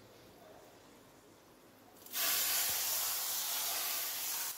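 Hot tadka tempering poured into sabut masoor (whole black lentil) dal in a kadhai bursts into a sudden loud sizzling hiss that holds steady for a couple of seconds after a quiet start.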